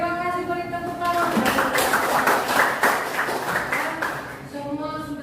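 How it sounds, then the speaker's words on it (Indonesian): Classmates in an economics classroom burst into a few seconds of dense clapping, bracketed by a single voice talking just before and after. "beri tepuk tangan"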